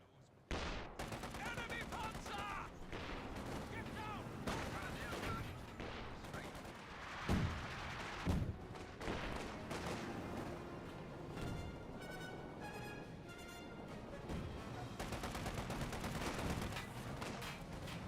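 Bursts of gunfire from Company of Heroes 2, with LMG fire aimed at Volksgrenadiers, rattle through a busy battle mix while a caster keeps talking over them, and a few heavier impacts stand out.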